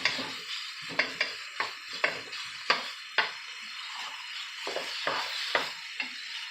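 Crumbled keto sausage sizzles steadily in a pan on a home stove while a utensil breaks it up, with a run of sharp scrapes and taps against the pan over the constant frying hiss.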